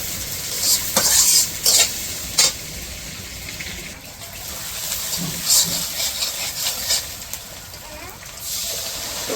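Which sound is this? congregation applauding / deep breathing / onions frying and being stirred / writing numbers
onions frying and being stirred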